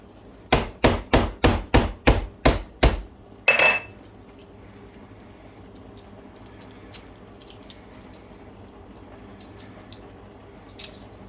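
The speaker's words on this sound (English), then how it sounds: "I'm just going to grate this all into the dressing" Eight sharp metallic taps in quick even rhythm, then a louder rattling clank, as a small handheld garlic grater is knocked against a bowl of dressing, followed by faint kitchen movement.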